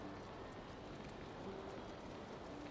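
Rain in the video game Valheim falls as a soft, continuous patter and hiss, quiet and steady with no distinct drops standing out and no speech.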